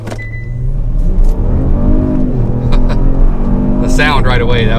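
A Kia Stinger GT fitted with BMS intakes accelerates hard, its engine note rising loud and close with a steady sweeping climb, while a person talks over it and a brief whoosh follows near the end.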